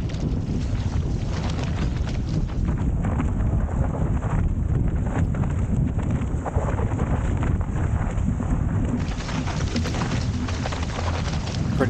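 Gusty wind roaring across the microphone while sailing a small proa with a crabclaw sail on sheltered water, a loud continuous rumbling buffet with water noise underneath.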